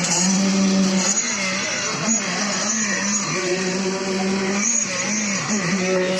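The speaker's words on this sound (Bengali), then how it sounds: "মিক্সার মেশিন দিয়ে চলছে।" A concrete mixer machine runs during the casting of a bridge deck at a construction site. Its engine gives a loud, continuous drone that wavers slightly in pitch throughout.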